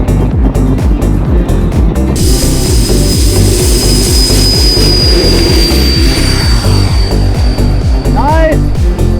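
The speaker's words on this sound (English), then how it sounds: "It was all fun and games until this remote-controlled Boeing went nose down" A remote-controlled Boeing model jet plane's engine whines loudly and continuously close by, a steady high-pitched tone over a rumbling, pulsing drone throughout.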